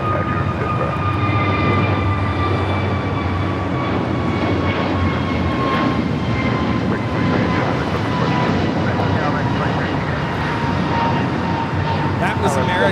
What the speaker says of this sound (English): That was American Airlines 2832 taking off to Dallas-Fort Worth on the A321neo.